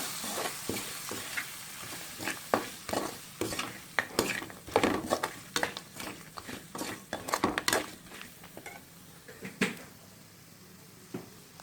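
Curry powder stirred in a pot for prawn biryani, a series of irregular spoon scrapes and metallic clinks against the pot over a light sizzle, close and fairly quiet, without talk.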